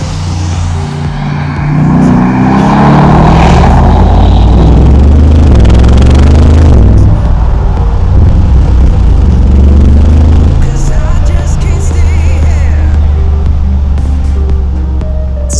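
A Mercedes G63 AMG engine drives and revs, a deep loud rumble with rising and falling pitch sweeps as it accelerates, sustained throughout at close range.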